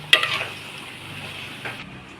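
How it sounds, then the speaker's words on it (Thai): Luffa gourd with pork and fresh chilies sizzles steadily in a large wok, with a sharp clank of a utensil at the start and another stirring scrape near the end. "ผัดบวบกระทะใหญ่เลยจ้ะ"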